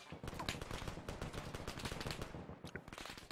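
A DShK heavy machine gun fires in a military video game, sustained rapid bursts of dense, fast shots with crackling impacts, fairly quiet and distant-sounding, continuing throughout.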